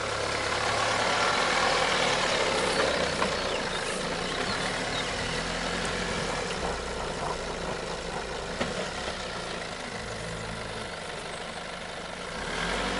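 A Nissan Patrol off-road vehicle's engine runs steadily, a continuous low rumble with a broad roar and wind-like hiss throughout, fairly loud and close, without clear revving or anyone speaking.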